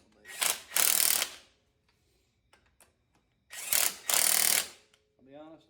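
Harbor Freight impact wrench gun working on a Lexus GX470 front spacer lift, firing in two loud bursts of rapid hammering about three seconds apart, with quiet clicks between and a voice briefly at the end.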